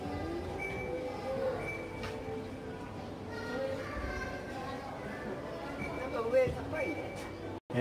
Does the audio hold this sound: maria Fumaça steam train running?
yes